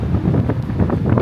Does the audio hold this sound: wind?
yes